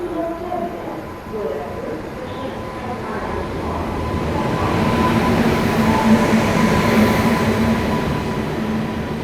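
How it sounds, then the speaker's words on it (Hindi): The Kaifiyat Express pulls into a busy station platform, a steady rising rumble of rolling rail wagons that builds to a loud close pass, with crowd murmur and voices beneath. "आ गई वही कैफियत एक्सप्रेस जिसको हम लोग ऐशबाग रेलवे स्टेशन पे पीछे छोड़ के आए थे।"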